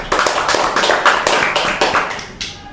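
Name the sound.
applause for a student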